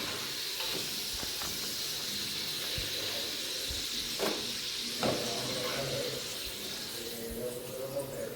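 Food deep-frying in hot oil, a continuous soft hiss and bubbling sizzle at low level, punctuated by a few clinks and knocks of utensils, with faint voices in the background.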